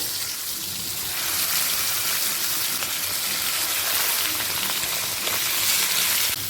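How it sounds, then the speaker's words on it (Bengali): Rui fish frying in hot oil in a wok gives a steady, dense sizzle that holds loud and even throughout, with no voices. "প্রথমে মাছটাকে আমি ভেজে তুলে রাখবো"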